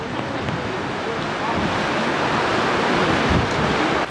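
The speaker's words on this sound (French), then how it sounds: "Alors ici c'est la cascade de Gullfoss, appelée cascade d'or. Et vous devez rien entendre vu le vent qu'il y a" Gullfoss waterfall in Iceland roars as a steady, dense broadband rush, heavily buffeted by strong wind hitting the microphone throughout.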